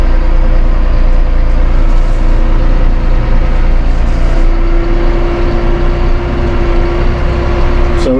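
A Massey Ferguson 4707 tractor with Dyna2 transmission drives on steadily after the foot pedal is released, its engine a loud, constant low rumble close by with a faint whine.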